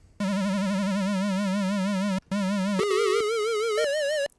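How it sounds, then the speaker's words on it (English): Warbling synth notes from the Minibit plugin wobble in pitch with fast vibrato, giving a spacey, spooky sound. A long held note breaks briefly, then rising and falling held notes follow, loud and alone with no speech. "nice little spacey or spooky sounds"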